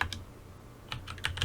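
Keys clack on a new computer keyboard: a few quick, crisp keystrokes in short bursts, close and clear over a low background hum.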